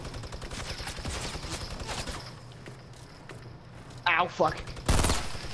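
Gunfire in the Fortnite video game: rapid bursts of shots through the first half, then a few louder sharp blasts near the end, while a player curses in pain.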